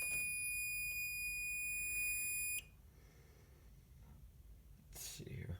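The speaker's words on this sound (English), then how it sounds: "you can see the detector is in activation since we did spray some smoke at it" An activated smoke detector on a fire alarm system sounds a shrill, steady electronic tone for about two and a half seconds, then cuts off, leaving a quiet room with faint whispering.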